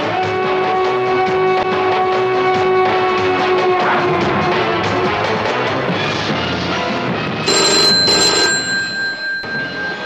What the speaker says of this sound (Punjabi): ਰਾਜੂ ਦਾ ਫੋਨ ਆ ਗਿਆ।